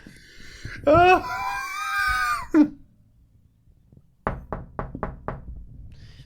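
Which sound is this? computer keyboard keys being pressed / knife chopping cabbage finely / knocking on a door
knocking on a door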